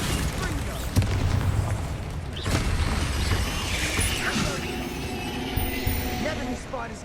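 Bombarda blasting spell from Hogwarts Legacy: a deep boom at the start and a second blast a moment later, with rumbling debris and game noise after them.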